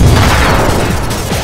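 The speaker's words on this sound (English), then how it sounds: "He has bombs now!" Video game bomb explosion during the Mettaton fight in Undertale, a loud, dense rumbling boom with crackling debris that fills the whole short moment.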